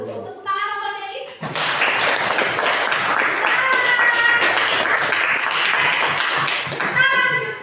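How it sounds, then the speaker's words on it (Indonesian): A classroom of students claps for a classmate named Dennis, a lively burst of applause with children's voices mixed in, bracketed by brief speech at the start and end. "Tepuk tangan buat Dennis"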